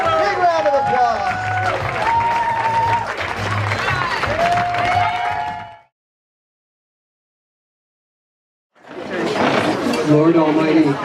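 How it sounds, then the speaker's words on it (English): A wedding crowd claps and cheers for the bride and groom, loud and sustained, then breaks off into a stretch of near silence before a second burst of cheering and applause returns. "Big round of applause."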